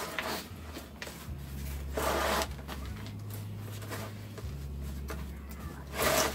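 A heavy potted lemongrass plant being rolled on its side to loosen the soil, giving a continuous rough rubbing and grinding rumble with low scraping surges, close by and without talk.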